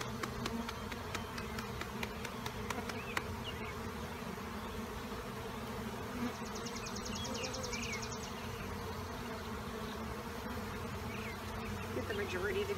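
Honey bees buzzing around an opened Langstroth hive during a powdered sugar roll varroa mite check, a continuous close droning hum with a few brief handling noises.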